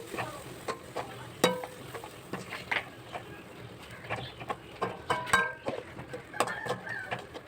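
A spoon stirs egg curry gravy in a pan with a run of irregular scrapes and light clinks against the metal, close and fairly quiet, with no talking.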